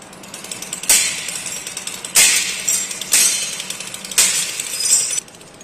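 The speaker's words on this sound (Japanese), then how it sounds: "ガラスが割れるような音がした数分後" Door glass of a jewelry store being smashed during a break-in, caught on a security camera: four sharp crashing bursts of breaking glass about a second apart, each trailing off in tinkling debris, fairly loud over background hum.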